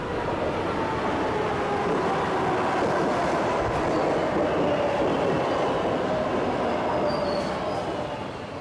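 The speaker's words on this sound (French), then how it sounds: "Patricia Massari prend le train de banlieue en direction de Manhattan" A commuter train heading toward Manhattan from Queens rumbles steadily along the tracks, a continuous loud roar of wheels and carriages with faint squeals, no voices.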